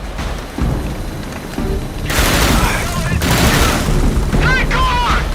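Grenade explosions and heavy gunfire in the video game Dark Sector, a dense rumbling barrage of booms that swells loud and sustained after a quieter start, with faint voices mixed in.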